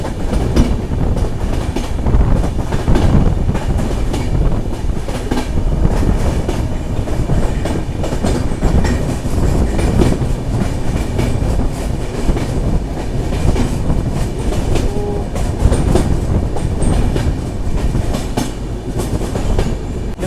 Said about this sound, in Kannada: ಟ್ರ್ಯಾಕ್ ಸೌಂಡ್ ನೋಡಿರಿ, ಟ್ರ್ಯಾಕ್ ಸೌಂಡ್ ಹೆಂಗದ.